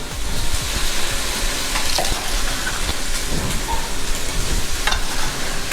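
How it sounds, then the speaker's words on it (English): Sausage sizzles loudly in a hot pan while being stirred and tossed, a dense continuous crackle with occasional scraping and clinks, no talking. "We're just gonna give our sausage a little stir. Tossing our sausage around, letting it get that nice brown"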